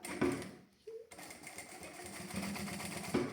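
A sewing machine stitching across a folded strap to hold it in place, giving brief, quiet bursts of rapid mechanical needle clatter with a short pause between them.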